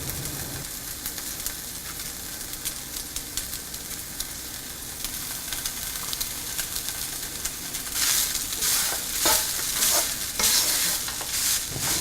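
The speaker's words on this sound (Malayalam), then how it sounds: "ഇതിലോട്ട് നമ്മൾ എടുത്തു വച്ചിരിക്കുന്ന നാരങ്ങ പിഴിഞ്ഞൊഴിച്ച് ഇളക്കി യോജിപ്പിക്കുക." Squeezed lemon juice being stirred into hot coconut rice in a pan, a steady close frying sizzle with scraping stirs that grow louder and more vigorous toward the end, no voices.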